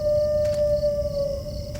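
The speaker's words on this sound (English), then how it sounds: "The wolves howl at night." Wolves howling in a forest in the Silent Hill 4 video game, one long steady howl held over a low rumbling ambience with faint wavering tones, alone with no talking.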